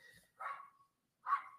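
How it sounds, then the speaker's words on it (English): A neighbor's dog barks at a distance, two short faint woofs separated by a pause, heard alone in a quiet room. "my neighbor's dog is going barking"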